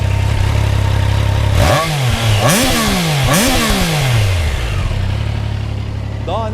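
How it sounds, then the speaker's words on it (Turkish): Triumph Trident 660 three-cylinder motorcycle revved hard three times in quick succession from idle, close to the microphone, each rev climbing and falling back before settling to a steady idle. "Yaklaşalım mikrofonu şöyle bir çıkaralım, bir gaz verelim."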